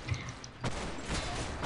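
Gunfire in the video game Blackshot, a few distant muffled shots and bursts in a noisy firefight, heard without talk.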